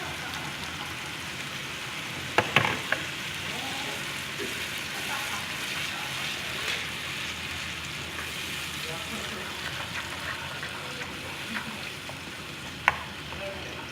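Tomatoes frying together with okra in a hot pan, giving a steady close sizzle with a few sharp clinks of a utensil against the pan.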